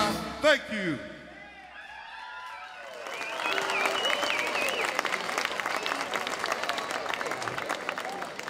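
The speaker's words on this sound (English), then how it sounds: "give the kids a round of applause" An audience at an outdoor market-festival soul concert breaks into applause and cheering after a song ends, a broad crowd roar building from about three seconds and sustained to the end, with a voice heard briefly at the start.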